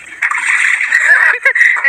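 Someone bathing in a pond sends up a quick burst of close, loud splashes and sloshing water lasting under two seconds.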